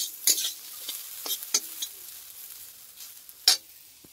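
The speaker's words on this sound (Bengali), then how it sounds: "আলুটা ভাজা হয়ে এসছে," Potatoes fry in a pan with a soft, low sizzle broken by a few sharp scrapes and clinks of a spatula stirring.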